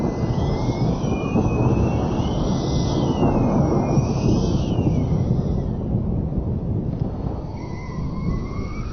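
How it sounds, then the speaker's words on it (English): Strong cyclone wind roars steadily and loudly, a dense continuous rumble buffeting the microphone with no letup, overlaid by faint sweeping tones. "The wind is too strong."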